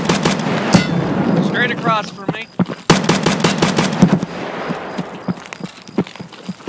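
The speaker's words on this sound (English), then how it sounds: "Gunshots. Yeah, he's trying to quickscope me." Rapid gunfire bursts crack out in the Escape from Tarkov video game during a nighttime woods match, with several sharp close shots and bursts of automatic fire while players talk over them.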